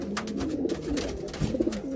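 A rare pigeon in a loft gives short, soft cooing calls close by over a low hum, with a few faint clicks and no speech.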